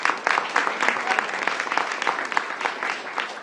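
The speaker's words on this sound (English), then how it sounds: "Please, another round of applause" Audience applause at a mayoral press event in Washington, DC, steady clapping from a crowd filling the room with a few sharper claps standing out, moderately loud and continuous throughout.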